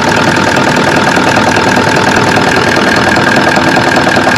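A car engine fitted with an oil catch can idles steadily and close, a continuous mid-pitched rumble with a faint rhythmic knock throughout and no voices.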